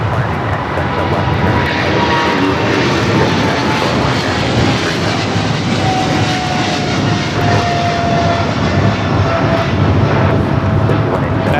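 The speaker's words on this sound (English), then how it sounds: "5382 taking off to Miami, Florida on the 777 freighter" China Airlines Cargo Boeing 777 freighter taking off at LAX, loud continuous jet engine roar that stays strong and steady throughout, with faint radio chatter mixed in.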